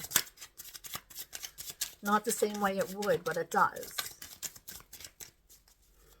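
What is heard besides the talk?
shuffling tarot cards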